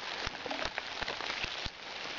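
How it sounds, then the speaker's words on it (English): Rain pattering on a surface, with a dense hiss and scattered louder drops tapping irregularly, close by and fairly loud. "it's raining pretty good here again"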